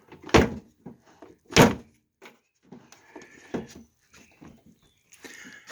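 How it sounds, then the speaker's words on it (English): A door on a 1998 Honda CR-V is shut with two sharp, close thuds, followed by quieter rattles and handling noises on the vehicle. "I'll shut the door here."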